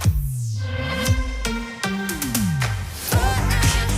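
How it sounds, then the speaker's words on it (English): A short, busy jingle for the hit-music radio station Energy: punchy synth hits, swooshing effects and layered music in quick succession, loud and heavily produced. "with twice a year updated custom jingles"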